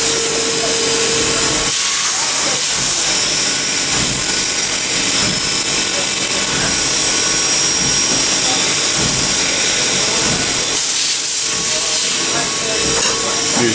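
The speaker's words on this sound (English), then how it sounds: "Here comes the end mill." A CNC machine's end mill cuts a quadcopter motor mount with a loud, steady hissing whine that runs continuously, dipping briefly twice, close to the microphone and without talk.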